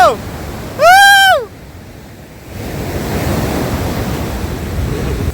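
Ocean waves roll in at Pondicherry beach as a steady, wind-touched surf wash. A brief, loud, high whooping call opens the scene before the surf settles into a continuous rush.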